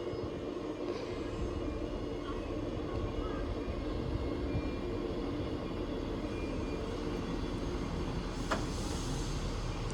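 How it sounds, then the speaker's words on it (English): A Class 158 diesel multiple unit on an Inverness to Glasgow Queen Street service at Aviemore, a steady low rumble holding throughout as it passes at moderate distance, with a brief sharper squeal near the end and no talk. "we have a class 158 from Inverness to Glasgow Queen Street."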